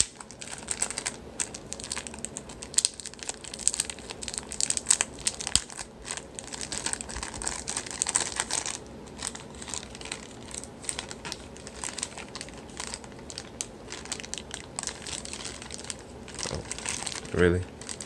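Plastic wrapping is peeled off a new Essential Phone, making close crinkling and rustling in irregular bursts, with the crackles strongest early on and quieter stretches toward the end, and faint talk now and then.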